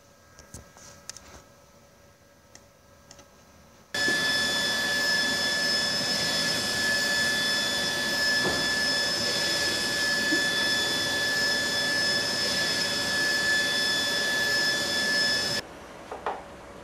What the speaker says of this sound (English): one click on the print button and the file is printing